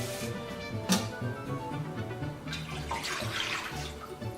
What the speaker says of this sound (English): I'm going to wait till it's filled up to 2.